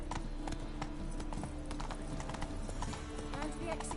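A horse named Roach trots in a video game, hooves clip-clopping steadily and close over a continuous bed of game sound and music, with a rider urging it on.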